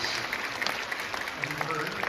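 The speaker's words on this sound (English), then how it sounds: "A little round of applause." Audience at a Cobra Kai panel at Comic Con Liverpool 2022 gives a steady round of applause, a dense wash of clapping with voices talking over it throughout.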